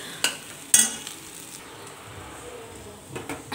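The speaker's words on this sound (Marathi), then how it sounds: "आता कमी गॅसवर आपल्याला ही जी भुर्जी आहे ती छान अशी भाजून घ्यायची आहे" Egg bhurji slowly roasting in a pan over a low gas flame, a soft, steady frying hiss with a few sharp clinks of a spoon against the pan near the start and end.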